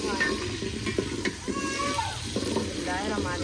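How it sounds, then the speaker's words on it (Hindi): Onions frying and browning in a pot over a wood fire in a village kitchen, a steady sizzle with scraping stirs, under people talking nearby. "प्याज हमने ऐड कर दिया है। अभी हम इसको ब्राउन करते हैं"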